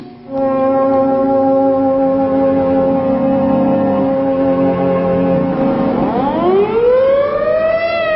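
A civil defense siren sounds a long, loud, steady wail, then its pitch winds down and climbs again toward the end.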